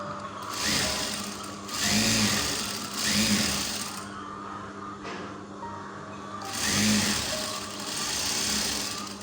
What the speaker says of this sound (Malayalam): ഇനി നമ്മൾ ഈ അരികൊന്ന് പതിപ്പിച്ചടിച്ചു കൊടുക്കണം.